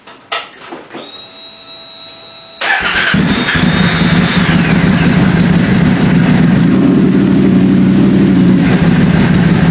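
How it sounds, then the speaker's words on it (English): A motorcycle engine cranks briefly after a few quiet clicks, then catches and settles into a steady, loud, low idle that runs to the end. "So let's fire up the bike."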